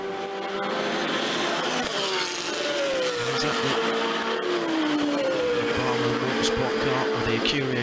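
GT race cars, including an AF Corsa Ferrari, roar past at Zandvoort during a British GT race, engines loud and layered with rising and falling pitch as they accelerate, under a commentator's voice.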